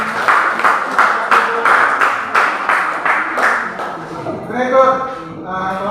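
Audience in a teacher-training classroom session clapping in an even rhythm, about eight crisp claps close together, fading as a voice starts speaking at the end.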